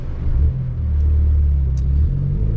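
Inside the cabin of a Peugeot RCZ THP200 Asphalt Edition on the move, with the window slightly ajar, a loud, steady low engine and road rumble that swells slightly; no talking.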